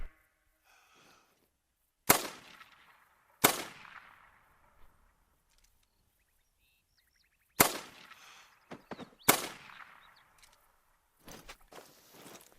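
Four sharp .22 rifle shots crack out in pairs while hunting ducks flying overhead in the video game theHunter: Call of the Wild, each with a ringing echo, amid faint footsteps and rustling.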